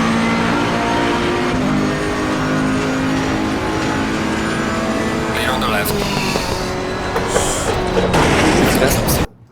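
Car engine from a racing video game driven with a Logitech G29 wheel, a steady loud drone with shifting tones throughout, rising into a busier burst near the end.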